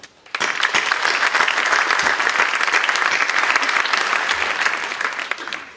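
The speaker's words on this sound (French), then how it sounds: "Je trouverais légitime et tellement mérité qu'on les applaudisse pour les remercier" A conference audience at a speech on the 2017 finance law bursts into applause after a brief quiet moment, sustained dense clapping from many hands that stays loud and then eases slightly near the end.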